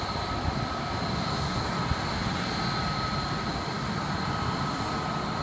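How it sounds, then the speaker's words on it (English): A steady aircraft engine drone holds constant throughout, a continuous whine and hum from a propeller plane nearby, with no talking. "That is a small plane."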